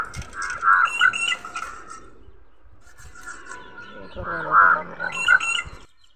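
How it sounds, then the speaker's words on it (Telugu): Outdoors where shark fish are being cut and cleaned, birds call loudly nearby in two bursts of harsh squawking caws mixed with chirps, separated by a quieter stretch. "ఒక పక్క ఏమో పక్షుల కిలకిల రాగాలు, కాకుల అరుపులు, చాలా బాగుంది కదా"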